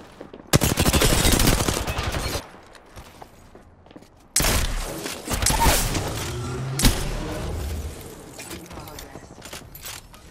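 Rapid automatic fire from an R301 rifle in a video game, heard in two long loud bursts of dense shots, the second merging with clatter and impacts; a voice talks briefly underneath.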